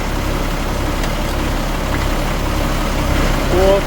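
An M35 deuce truck engine runs at a steady, loud idle while its gears are shifted, with a low, constant drone and a short rise near the end.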